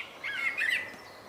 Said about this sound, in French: ça, c'est le bonheur du chant des oiseaux qui, souvent, s'exprime davantage qu'on ne les voit